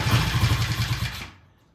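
A Triumph T100 motorcycle engine at its first start, fired with no throttle: a brief burst of rapid, close, chuffing exhaust pulses for just over a second before it cuts out into silence.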